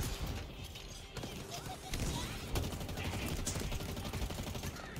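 Rapid gunfire in the video game Halo Infinite, dense bursts of automatic shots running continuously alongside other game noise.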